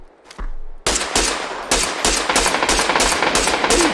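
Gunfire in PUBG, a brief single shot followed by a close, loud automatic burst of rapid evenly spaced shots that keeps going to the end.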